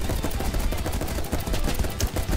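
Dense gunfire rattles through a Roblox game battle in rapid, continuous bursts of loud cracks, with no pause and no talk over it.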